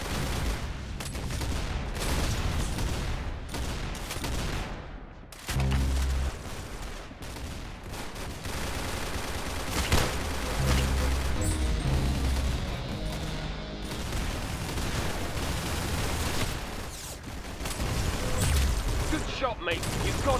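Rapid gunfire in the Roblox Arsenal game, dense bursts of shots and fusillades running almost continuously at high volume, with voices talking over the action.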